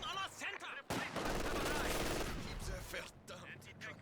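Gunfire from a sniper patrol in Company of Heroes, a World War II strategy game, comes as a dense burst of loud shots and crackling fire, then thins into scattered quieter reports.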